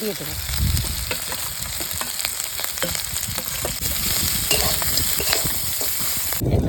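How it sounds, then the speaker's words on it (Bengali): Green chillies fry with ground cumin and chilli powder in a pan, a loud, dense crackling sizzle that runs continuously, close by, with stirring under it. "একটু কাঁচা লঙ্কা জিরে গুঁড়ি আর শুকনো লঙ্কা গুঁড়ি দিয়ে ভেজে নেব কাঁচা লঙ্কাগুলো এবার"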